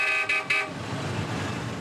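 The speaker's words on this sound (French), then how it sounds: "Avec les klaxons, le trafic infernal." Car horns honk in heavy city traffic: a few short, loud toots in quick succession give way to a steady wash of engine and road noise.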